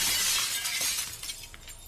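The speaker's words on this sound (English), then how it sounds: "Moments later, the sound of shattering glass filled the air." Glass shatters loudly in a sudden burst, with bright crashing shards and scattered tinkling fragments that fade over about two seconds.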